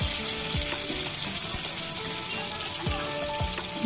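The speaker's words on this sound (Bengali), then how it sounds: "ভালো করে আমরা ভাজবো যাতে কাঁচা না থেকে যায়।" Bhetki fish bones frying in hot oil, a steady close crackling sizzle with occasional sharp pops and the scrape of stirring, no one speaking.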